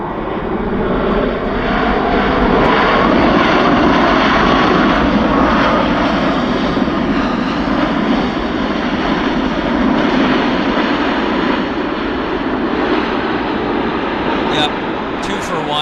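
A fixed-wing airliner touches down twice in a double bounce at Vancouver Airport, then rolls out and taxis, a loud, steady engine roar dominating throughout with people talking over it.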